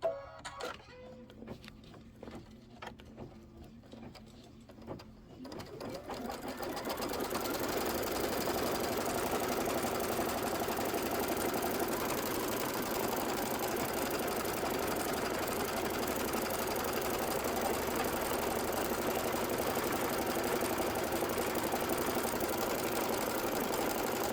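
An embroidery sewing machine stitches a batting tack-down on a Kimberbell Candy Corn quilt border block, a steady, fast mechanical whirring and clatter that starts after a few seconds of quieter shuffling and runs on loudly without talk.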